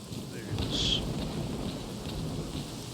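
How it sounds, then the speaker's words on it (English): Heavy rain pours steadily with a low rumble of thunder in the Stalker Clear Sky game. The downpour is loud and continuous and no one speaks. "Man, that rain is loud."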